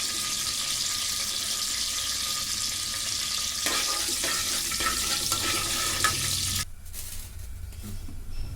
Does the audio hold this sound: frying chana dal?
yes